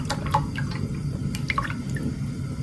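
Milk and fresh cream pour into a wide pan for homemade ricotta, making soft, close dripping and splashing sounds in an irregular trickle with no voices.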